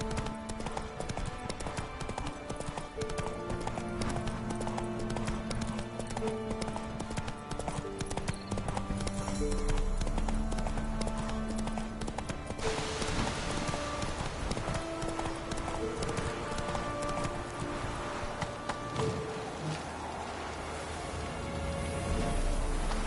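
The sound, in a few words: horse galloping in video game The Witcher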